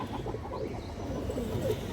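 A khaki female pigeon, a mottled Bagha khaki hen, gives soft low coos, faint and close, with no other sound over them.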